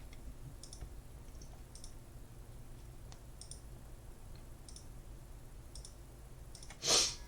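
Button clicks on a graphing calculator as a function is keyed in, a series of faint, sparse taps spaced about a second apart over a low steady hum, with one louder click near the end.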